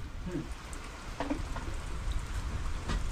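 Steady rain patters on the ground and nearby surfaces in a string bean garden, a soft continuous hiss with scattered closer drops, no voices.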